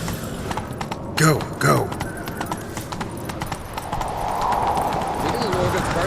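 Horse hooves clip-clopping in The Witcher 3: Wild Hunt, a brisk rhythmic trot up close, with someone talking over it and a short whinny-like burst early on.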